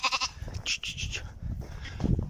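Yaroslavl lamb bleating: several short wavering bleats and cries at close range, with a deeper animal call near the end and no one speaking.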